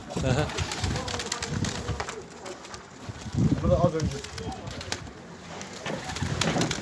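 Soft, low pigeon coos repeat in short bursts under close conversation in Turkish, with ambient noise throughout.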